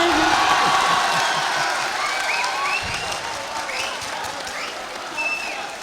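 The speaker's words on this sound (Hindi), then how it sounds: "तालियां कमजोर है" An audience at a Hindi-Urdu poetry mushaira claps and cheers with some whoops, loud at first and then easing slightly, with crowd noise running beneath.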